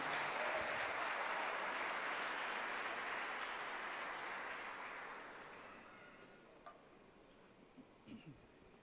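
A church congregation claps steadily, a dense wash of applause that gradually fades out over several seconds, leaving a few scattered claps and small sounds at the end.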